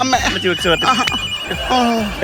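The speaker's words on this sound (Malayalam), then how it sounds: "അയ്യോ ഫോൺ അടിക്കുന്നു." A telephone rings in short repeated trills while a person talks over it close by.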